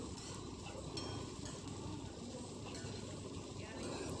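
Steamed gourd muthia pieces sizzle in a hot mustard seed and sesame tempering with curry leaves, a steady dense frying hiss with faint stirring, continuous and close.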